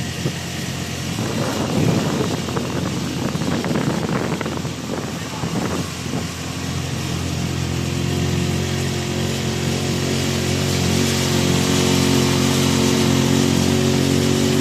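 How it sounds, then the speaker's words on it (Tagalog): A loud engine labors and roars with heavy wind noise over the microphone, its pitch rising and sustained as if under strain. "Hirap na hirap ng makina niyan, Jay."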